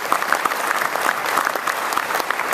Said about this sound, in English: How about a round of applause for all of us for being here today?